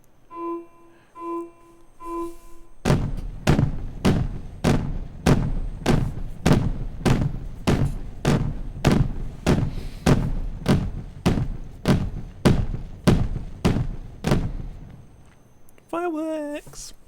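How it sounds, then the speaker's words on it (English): Rapid string of loud booming fireworks bursts in the Timberborn video game, about sixteen evenly spaced thuds in a steady rhythm, with short tones before and a brief warbling sound after. "Fireworks!"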